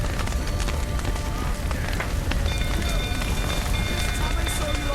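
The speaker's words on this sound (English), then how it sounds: "Looks like rain." Rain falls steadily in The Witcher 3 game world, a dense, loud, continuous patter and hiss close by, with a voice speaking over it.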